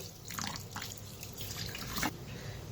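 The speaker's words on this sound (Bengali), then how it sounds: "তো ফ্রেশ জল দিয়ে ধুয়ে নিই" Fresh water runs and splashes over chhana (fresh cottage cheese) while it is rinsed in a kitchen, making a faint, close, continuous trickle with a few brighter drips.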